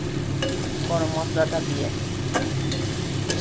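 Banana flower curry with garam masala fries and is stirred in a pan, a steady sizzle running throughout beneath a brief spoken phrase.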